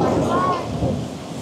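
Thunder rumbles through a heavy storm with pouring rain, a low rolling boom that swells and fades over a second and a half, with faint voices mixed in.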